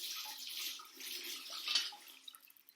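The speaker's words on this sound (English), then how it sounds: "So pour some water over it." Water pours over an egg in a thin, faint splashing stream that runs steadily, then breaks into scattered drips near the end.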